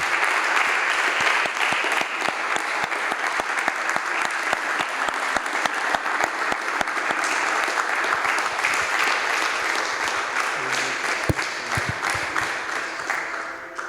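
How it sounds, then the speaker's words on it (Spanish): A church congregation claps loudly and continuously for around fourteen seconds, a thick, bright crackle of many hands with occasional sharper individual claps standing out near the front. "Si le querés dar un aplauso"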